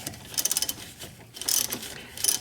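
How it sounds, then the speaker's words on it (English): Quiet clicking ratchet-like turns of a 15 mm wrench tightening a bolt on a Volvo S80 rear brake, in short bursts of rapid clicks with brief pauses between, close and alone. "you're going to have to put your 15 millimeter wrench on here and then tighten it down"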